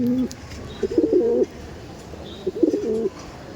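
High-flying Giribaj pigeons give two close, soft cooing phrases, each a short bubbling coo, with a quiet background of faint room noise.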